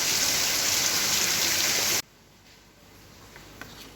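Heavy monsoon downpour on a rainy day, a dense, loud hiss of rain for about two seconds that cuts off abruptly to a much quieter, faint background.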